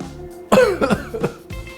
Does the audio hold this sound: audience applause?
no